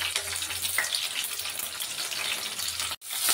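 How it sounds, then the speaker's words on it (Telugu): Four spoons of hot oil sizzling with mustard seeds, a chili and crushed garlic for a black-eyed pea curry, a steady close hiss that drops out abruptly near the end. "4 స్పూన్ ఆయిల్ వేసి, ఆవాలు వేసి, ఒక చిల్లీ వేసి, తెల్లగడ్డ దంచి వేసుకుంటున్నాము"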